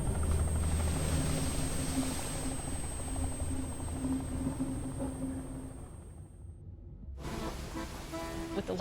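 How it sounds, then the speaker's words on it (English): A helicopter's rotors spin steadily in the video game Dredge, a loud, dense whirring roar with a high whine. It cuts out abruptly near the end, then returns after a moment of silence. No voices are heard. "the executive boards his helicopter, rotors already spinning"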